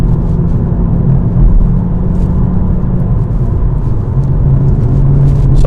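A car engine drones loudly and steadily from inside the cabin during a heel-and-toe downshift to third gear, with a low rumble and little obvious rise in pitch.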